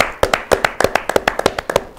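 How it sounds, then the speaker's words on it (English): Applause from an audience at the Jaffery Sports Center, quick close hand claps in an uneven rapid rhythm, about a dozen and a half sharp slaps over two seconds with nothing else around them. "Round of applause."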